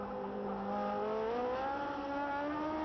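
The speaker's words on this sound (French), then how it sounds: "Là voici Fittipaldi dans le virage rosier." A 1972 Formula 1 race car sweeps past at the Clermont-Ferrand circuit in the French Grand Prix, its high-revving engine a loud, steady scream with pitch rising and shifting over about three seconds.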